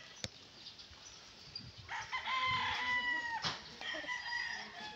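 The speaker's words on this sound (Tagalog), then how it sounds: "ang daming manok nito" Several fighting roosters crow in long drawn-out calls, overlapping one another, with scattered clucking from a flock of chickens close by.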